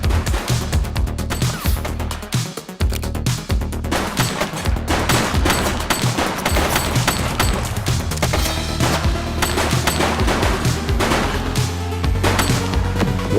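Rapid, loud gunfire in The Precinct game comes in continuous bursts, with many sharp shots and impacts over a low, driving music bed.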